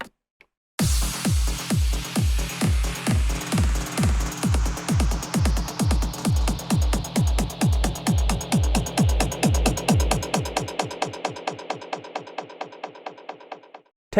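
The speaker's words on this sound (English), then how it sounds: "Now let's try delay." Delay effect on an AlphaTheta euphonia rotary DJ mixer: a pulsing, repeated kick-like thump whose echoes stack at a steady rhythm, then the repeats fade gradually into silence.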